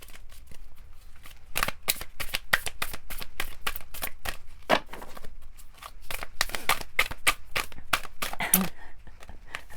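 Tarot cards being shuffled by hand, a long run of quick, crisp riffling bursts close up with short pauses, no talking.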